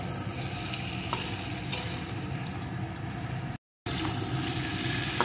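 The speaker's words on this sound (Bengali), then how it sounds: "এখন আবারও আমি এই সমস্ত কিছু দিয়ে কুমড়োটাকে ভালো করে কষিয়ে নেব" Pumpkin chunks are stirred in a hot pan with turmeric and chili powder, giving a steady close sizzle with occasional scrapes. A brief silent gap breaks the sound near the end.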